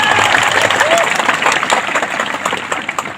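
Audience at a Tipra political gathering applauding, a dense continuous patter of many hands clapping, fairly close and steady, fading slightly toward the end.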